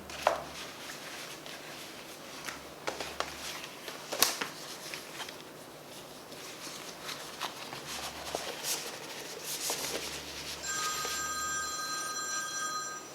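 A telephone rings near the end as a call from a father comes in, a trilling ring that rises clearly over the faint knocks and handling noises of a room.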